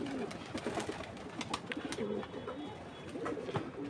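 Pigeons bathing give soft, repeated cooing calls in short rhythmic phrases, faint and close, with light splashing and fluttering between them.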